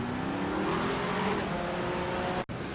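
A BMW GT3 race car in a sim-racing league event at COTA in the wet sweeps past with a loud steady engine drone whose pitch slowly falls, close and continuous, ending in a brief sharp cut.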